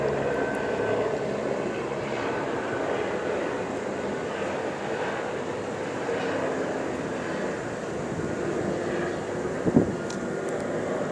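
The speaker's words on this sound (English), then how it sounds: "the entity is concentrating helicopter activity, flying in circles over me" A helicopter circles overhead beside a community library, giving a steady, loud, continuous engine drone with no breaks and a brief sharp click near the end.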